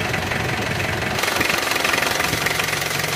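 An Isuzu Panther diesel engine with severe blow-by and suspected scored cylinder liners runs close by, a loud, steady knocking clatter that grows heavier and more rhythmic after about a second.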